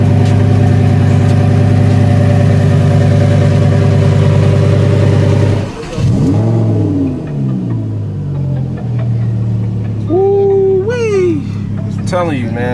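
A twin-turbo Lamborghini of roughly 1000 horsepower idles on a New York City street with a loud, steady droning rumble that breaks off midway into shifting tones, while someone talks nearby.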